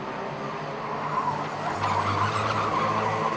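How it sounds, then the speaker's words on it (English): Rotax racing karts drum over rumble strips at Zwartkops Raceway in Pretoria, a rough buzzing rattle with engine drone and tyre noise, swelling louder in the second half as the karts pass nearby. "That's the sound of some of the karters on the rumble strips there."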